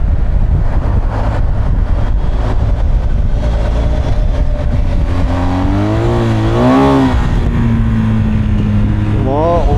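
A 2024 BMW R 1250 GS with its boxer engine rumbles deeply and revs up in rising, falling sweeps, then climbs again near the end, with people talking over the engine noise.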